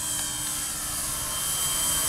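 An Avios Grand Tundra 1700mm RC plane on 6S power whines overhead with a high, steady electric motor buzz that swells slightly louder as it nears, heard alone.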